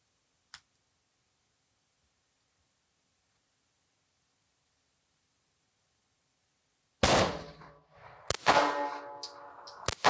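A Sig P238 .380 ACP pistol fired at a range target: a long quiet stretch, then a few sharp, loud shots in close succession with ringing tails.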